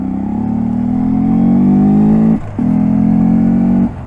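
A Honda Grom motorcycle revs hard with a steady engine drone, drops off briefly for a downshift, then pulls strongly again before easing off; close, loud, no talking.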